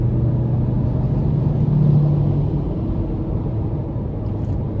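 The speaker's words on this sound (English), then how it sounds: "I just kind of wanted to test the overall throttle response, which is very good for a 4-cylinder." A 2024 Ford Ranger XL STX pickup with a 2.3-liter turbo four-cylinder accelerating, heard as a steady, loud low engine drone and road rumble from inside the cab, with a brief rise in pitch partway through.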